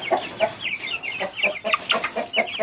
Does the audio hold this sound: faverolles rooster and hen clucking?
yes